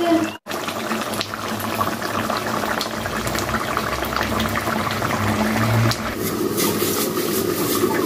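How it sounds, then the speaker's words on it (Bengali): Broiler chicken meat boiling in a covered pot on the stove makes a continuous close bubbling and simmering hiss, steady throughout with a brief gap near the start. "আমরা এখানে মাংসগুলো ভালো করে সিদ্ধ করে নেব"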